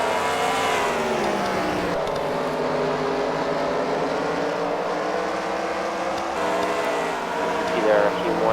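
Race cars at The Freedom Factory work through lap traffic during a fight-night event, engines droning and revving continuously at close range under ongoing commentary.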